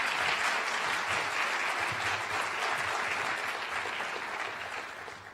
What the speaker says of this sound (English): Please give a round of applause for Michaela.